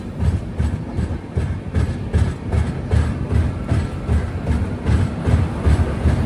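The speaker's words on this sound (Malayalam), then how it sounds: "ട്രെയിൻ ഇപ്പോൾ ഇതാ തിരുപ്പൂർ റെയിൽവേ സ്റ്റേഷനിലേക്ക് എത്തുകയാണ്." The Tata Nagar Express, running from Ernakulam to Jamshedpur, rolls into Tiruppur railway station with a steady, rhythmic clickety-clack of wheels over rail joints and a low engine rumble, close and continuous.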